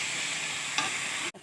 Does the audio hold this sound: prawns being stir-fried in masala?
yes